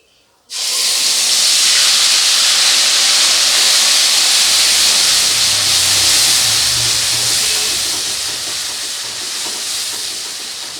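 Onion paste hitting hot oil for a pomfret fish curry, an abrupt loud sizzle that starts suddenly and holds as a strong steady hiss, easing slightly toward the end.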